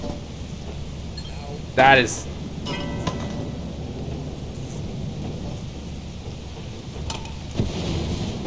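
Thunder rumbles from lightning in the video game Lethal Company, with a sudden loud crack near the start and a second burst later, while players talk over steady rainy background noise.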